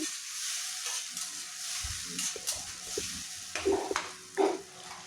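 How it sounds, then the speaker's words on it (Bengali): Tomato paste frying over low-to-medium heat for a Bengali jackfruit and prawn curry, giving a soft steady sizzle with scraping stir strokes that grow louder and clatter in the last seconds, no talk. "এবার এটা কিছুক্ষণ কষিয়ে নিতে হবে, যাতে টমেটোটা ভালোভাবে কষে যায়"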